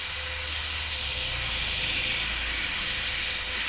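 Airbrush spraying black paint with no masking, a steady compressed-air hiss running continuously at close range with a faint low hum beneath.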